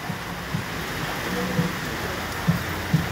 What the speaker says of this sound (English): It's raining in the place though.